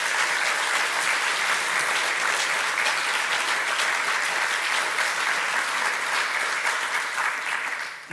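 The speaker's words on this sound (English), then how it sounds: "A round of applause" Steady, full applause from an audience at a university's academic year opening ceremony, continuous and even throughout before stopping abruptly.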